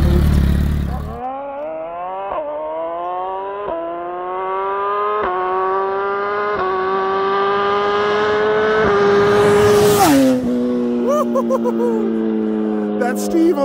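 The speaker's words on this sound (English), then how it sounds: "That's Steve on my Busa, first gear hit." A built-motor Suzuki Hayabusa motorcycle launches hard in first gear, its engine note climbing steadily and loud in a rising whine with quick shift steps, then cutting back abruptly near the end.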